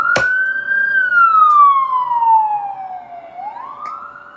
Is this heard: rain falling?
no